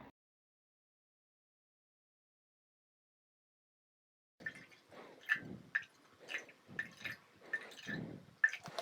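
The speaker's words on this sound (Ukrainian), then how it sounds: "Так, далі 350 грам мені треба оцту." Vinegar, 350 grams of it, is poured into an oil-based marinade for honey-style preserved peppers, giving faint, irregular liquid glugs and splashes that begin after several seconds of silence.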